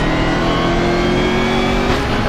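A Porsche race car engine revs hard during a GT race at Virginia International Raceway, a loud, steady, close mechanical drone with a slight rise in pitch near the end.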